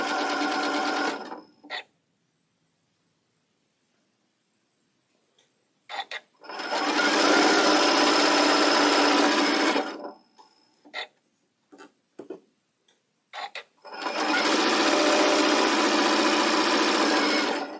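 A sewing machine stitches circles of Tilda fabric into a table runner in three loud steady bursts separated by pauses filled with short clicks and brief stops, ending in a last long run.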